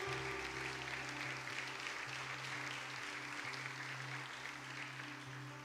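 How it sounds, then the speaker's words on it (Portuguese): Congregation clapping during a church service, a faint, even wash of applause held under a steady low hum. "Pode aplaudir o Senhor."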